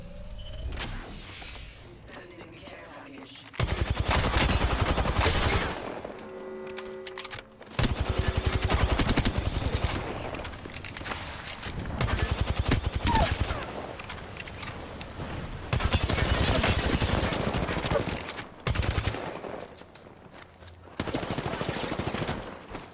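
Bursts of rapid automatic gunfire in the Apex Legends arena mode, several loud sustained volleys separated by short pauses, with faint game effects between them.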